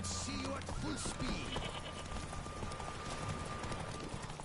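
Geralt's horse Roach in The Witcher 3: Wild Hunt, with steady hoof clip-clops and a brief whinny, set under game music and someone talking over it throughout.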